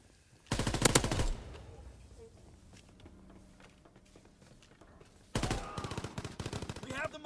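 A mounted turret machine gun in Call of Duty WW2 fires two loud, rapid bursts, a short one near the start and a longer one near the end, separated by quieter game ambience and footsteps.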